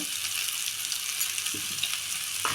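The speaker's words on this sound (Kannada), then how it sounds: "ಸ್ವಲ್ಪ ಫ್ರೈ ಮಾಡ್ಕೋಬೇಕು ಎಲ್ಲ ಹಸಿಮೆಣಸಿನ್ಕಾಯಿ ಸ್ವಲ್ಪ ಶುಂಠಿ ಬೆಳ್ಳುಳ್ಳಿ ಪೇಸ್ಟು" Green chili with ginger-garlic paste and onion sizzles steadily in a pan for a vegetable momo filling. A few soft stirring scrapes come through over the continuous frying hiss, and no one speaks.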